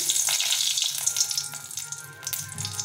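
Dried red chillies fry in hot mustard oil in a kadai, producing a loud crackling sizzle with bursts of spattering throughout this short stretch.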